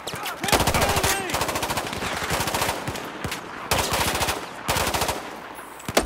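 Rapid automatic gunfire from Battlefield 4 gameplay, loud and close, with dense bursts of rattling shots running almost continuously and a few sharper single cracks standing out.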